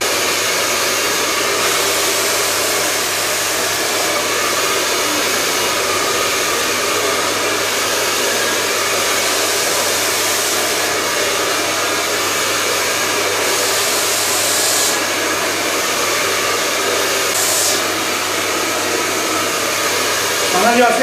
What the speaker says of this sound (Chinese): 我能快速把头发给吹干啊